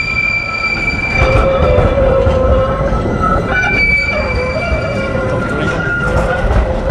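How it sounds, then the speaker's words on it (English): A train pulls into the Valand stop in Gothenburg. Its wheels squeal in long, shrill, overlapping tones over a steady, close, heavy rolling rumble for about seven seconds. "The train's coming."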